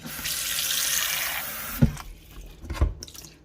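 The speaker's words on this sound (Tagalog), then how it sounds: "Dapat tap water ang lalagay natin." Tap water runs into a container with a steady hiss that stops partway, followed by a couple of thumps and faint drips nearby.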